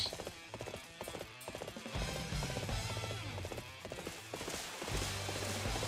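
Rapid clip-clop of a galloping horse in the video game Dynasty Warriors 8 Empires, steady hoofbeats running close and fairly loud over game background sound, with no talk.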